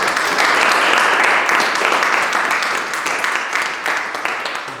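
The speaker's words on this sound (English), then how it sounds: "Let's give ourselves a round of applause." Toastmasters club members applaud themselves at a meeting, a dense, steady burst of close clapping from a small room that gradually thins and fades toward the end.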